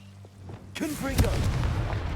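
A Confringo blasting spell from Hogwarts Legacy bursts in a sharp, booming explosion about a second in, then a loud rumbling crackle carries on to the end of the short clip.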